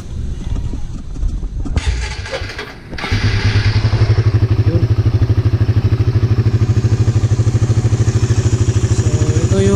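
A Raider150 motorcycle fitted with a 30mm Keihin carburetor, freshly cleaned, clatters through a rough start and then settles into a loud, close, rapidly pulsing idle that runs steadily to the end.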